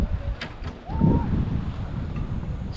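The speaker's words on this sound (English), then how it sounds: "It's pretty windy" Wind gusting over sea rocks on a fishing outing at Little Manly, a steady rough rumble of wind against the microphone filling the whole moment, with a brief faint whistle-like sound partway through.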